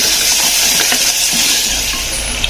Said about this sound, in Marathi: आलं लसणाची पेस्ट व्यवस्थित हलवायचं आहे.